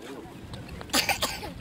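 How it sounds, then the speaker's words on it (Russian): A few short, sharp coughs in quick succession from a person walking outdoors near the ocean, close and moderately loud above steady background noise. "И ты кашляешь, и я."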